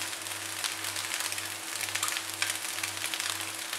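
Chicken fried rice sizzling in a pan at a roadside street-food stall, a steady close hiss of frying with a constant low hum beneath.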